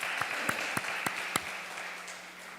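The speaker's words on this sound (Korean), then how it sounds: "사장님 박수로 격려." A church congregation applauds a new convenience store owner: soft, scattered clapping with a few sharp individual claps standing out, fairly faint and brief in a reverberant hall.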